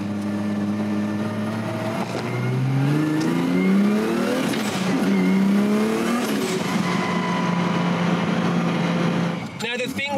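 A 1000hp RB26-powered Nissan Skyline R32 with a single throttle body cruises on back streets, its engine rising and falling through several gear changes with a steady mid-level drone, a sharp burst near the end.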